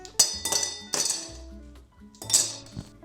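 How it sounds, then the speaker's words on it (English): Ice cubes dropped into a glass over espresso mixed with maple syrup and vanilla for an iced drink: several sharp, close glassy clinks in quick bursts, then a final cluster near the end. "Next, I add some ice cubes"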